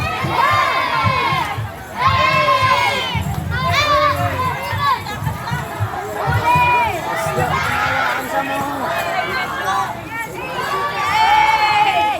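A crowd at a street dance performance during a barangay fiesta in Smokey Mountain shouts and cheers loudly and continuously, with many high children's voices and bursts of yelling.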